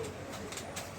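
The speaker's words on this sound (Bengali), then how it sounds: "কবুতর দেখাবো।" Pigeons of a running breed cooing in a loft, soft low throaty coos repeating under a steady hiss of background noise, fairly close.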